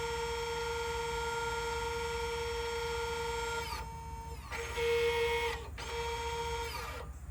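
The electronic parking brake motor on a 2015 Subaru Outback cycles with a steady, close, tonal electric whine that breaks off into short pauses and restarts a few times, pitch shifting slightly between runs, with no talking.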